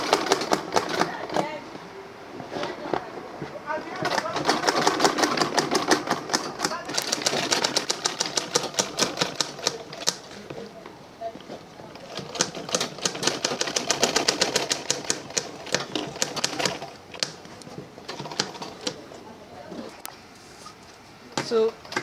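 A sewing machine stitching an Ankara fabric hand bag runs in rapid rhythmic bursts, stopping and restarting several times with a steady mechanical clatter, close and fairly loud, with no talking.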